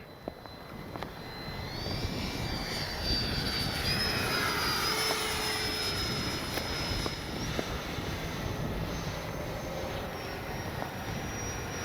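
A 70mm FMS Yak 130 RC jet with an electric ducted fan whines overhead on a windy day, its pitch rising and falling as it passes at a distance, with wind noise underneath.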